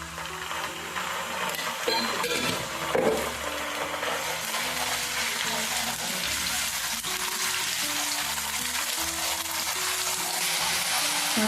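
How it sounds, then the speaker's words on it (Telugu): Sliced onions and ginger-garlic paste fry in hot oil in a pan for a chicken and chana dal masala curry. The sizzle is dense and steady throughout, with a few scraping stirs and no talk. "ఉల్లిపాయలు వేగుతున్నాయి కదా, ఇందులోనే మరి మసాలా కూడా వేస్తున్నానండి."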